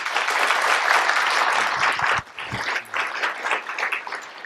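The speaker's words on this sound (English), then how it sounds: "We'll give her a big round of applause." Warm round of applause from the audience at a State of the City address in Mt. Juliet, Tennessee, dense clapping that dips briefly midway then resumes, with faint murmuring underneath.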